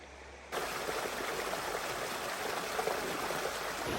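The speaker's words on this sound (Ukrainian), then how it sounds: "Річка Чорна Тиса, як і Тиса сама, велика річка Тиса, має багато порогів" The Black Tisa, a mountain river in Zakarpattia, Ukraine, rushes loudly and continuously over rocky rapids, its dense, churning water noise starting abruptly and filling the scene without a break.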